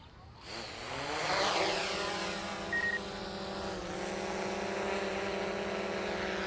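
A camera drone lifts off for aerial photography of a home, its propellers spinning up from a low start into a steady, loud, high-pitched whir that holds evenly to the end, with no talking.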